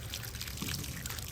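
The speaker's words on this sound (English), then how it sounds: "I just crack them on a little bit at first, see if we got some water flow" Muddy, dirt-laden water runs from household water-line taps just reopened after a DIY main line replacement from meter to house, a faint, steady pouring trickle with no talk.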